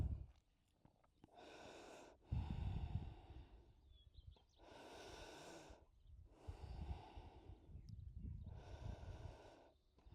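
Slow, deep breathing during a yoga forward fold, Paschimottanasana: five long, airy inhales and exhales come one after another, close and soft, with a low rumble underneath.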